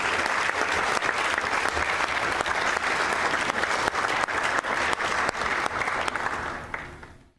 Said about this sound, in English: Please give an applause, Dr. Wolfgang Porsche